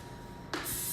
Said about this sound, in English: I have a muffin tin here, and I'm going to spray